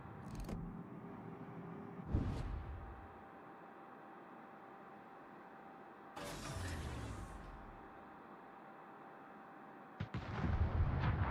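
Heavy naval guns boom in a World of Warships battle, three or four loud separate blasts with rumbling tails spaced a few seconds apart over a steady background of engine and sea noise.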